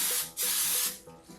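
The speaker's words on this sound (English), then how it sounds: "I'm going to lightly spray my microwavable cake pan with a little bit of cooking" Cooking spray hisses onto a microwavable cake pan in several loud, close bursts of steady spray with short gaps between them.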